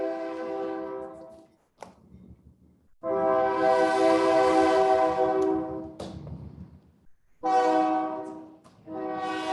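A train passes close by and sounds its horn in long, loud blasts separated by short gaps, with rumbling wheel and engine noise between the blasts.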